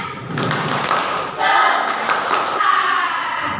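Classroom students performing a rhythmic spirit clap during a physics lesson on Archimedes' principle, a few loud, close bursts of clapping in quick patterned groups, with voices chanting along.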